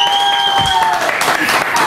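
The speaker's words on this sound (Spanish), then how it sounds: "¡Bravo! ¡Un aplauso!" A live television studio audience breaks into applause, a dense burst of clapping under cheering and background music.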